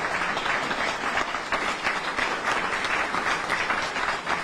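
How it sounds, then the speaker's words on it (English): A crowd at a live Q&A event in St. George claps loudly and steadily for a fire chief, a dense, sustained round of applause lasting several seconds. "So give him a round of applause."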